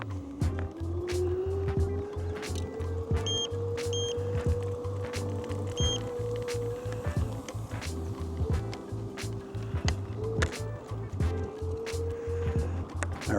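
A Caroma E68 Pro electric scooter with solid tires rolls along, a near continuous motor whine rising in pitch then holding, with rattling clicks and bumps from the ride throughout, no speech.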